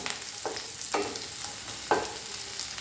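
Onion frying with garlic in a pan, a soft low sizzle broken by a few sharp stirring scrapes, fairly quiet and with no talking.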